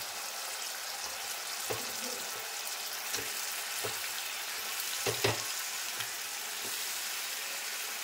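Chicken pieces frying in spices in a pan for chicken Maharani, a continuous soft sizzle with several sharp spoon clinks and stirring scrapes spaced through it, no speech.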